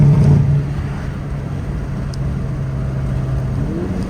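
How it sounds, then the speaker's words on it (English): Exhaust of a Hyundai Kona N drone through an open window while driving, a steady low engine hum with a brief louder swell at the start, continuous and fairly close. "I guess I can let the window down so y'all can hear the exhaust."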